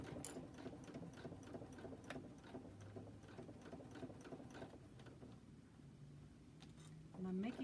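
A sewing machine stitches a tech caddy bag in fast, steady, rattling runs, heard close and continuous, with a soft voice talking faintly underneath.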